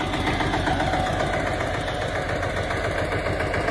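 An Eicher tractor engine runs close and loud with a steady, rhythmic diesel chug and low vibrating throb, heard throughout with no talk.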